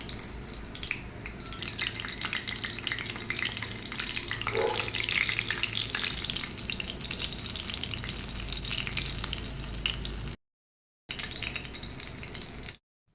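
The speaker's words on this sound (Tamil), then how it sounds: "எண்ணெய் சூடானதும் அதில் காடையை ஆட் பண்ணிக்கலாம். எல்லா பக்கமும் வேகிற மாதிரி இதை மாற்றி மாற்றி போட்டு நல்லா பொரித்து எடுத்துக்கலாம்." Quail frying in hot coconut oil in a pan gives a steady, close crackling sizzle that runs unbroken for many seconds, with a brief cut near the end and no voices.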